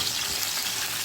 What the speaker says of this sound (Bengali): তো এবার আমি পটলগুলোকে একটা করে তেলের মধ্যে ঢেলে দেব। পটলগুলোকে একটু ভালো করে ভেজে নিতে হবে একদম।